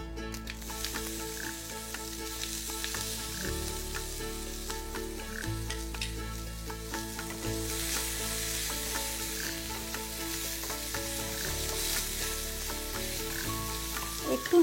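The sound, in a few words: stirring lentils with coconut sizzling in a pan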